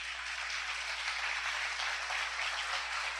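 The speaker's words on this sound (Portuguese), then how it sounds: "Aplauda bem forte ao Senhor." Church congregation applauding for the Lord after a closing Bible verse, a steady, dense wash of clapping that holds at an even level throughout with no speech over it.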